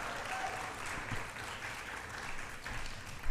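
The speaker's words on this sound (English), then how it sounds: "Everybody, can we give them a little round of applause as they make their way up?" A church congregation applauds the Choir Next Door as they make their way up, a steady wash of many hands clapping together at moderate volume with no talk over it.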